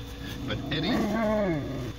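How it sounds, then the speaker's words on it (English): Dogs in an old-time mystery radio drama whimper and growl close by, mixed with someone speaking over them. "Sorry about the dogs."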